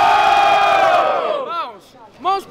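Loud crowd cheering and shouting at a student rap battle in Guarulhos, Brazil, swells and holds, then dies away, followed by brief bits of a voice.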